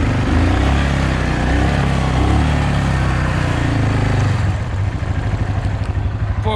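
Can-Am off-road vehicles, one camo and one yellow, run with a loud, steady engine drone that holds throughout, turning into a choppier, pulsing idle over the last couple of seconds.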